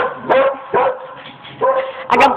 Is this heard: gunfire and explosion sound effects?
no